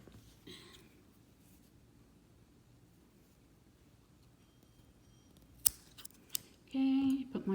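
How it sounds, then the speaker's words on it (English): Scissors snip through crochet yarn in a quiet room, a few sharp close cuts late on, followed by a brief rustle of handling. "I did like 2 knots, and I'm gonna cut it"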